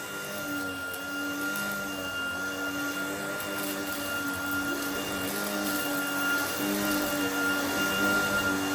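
A Shark ICZ300UKT cordless upright vacuum cleaner runs on carpet, a steady whining motor hum with a high tonal whine, alone and moderately loud.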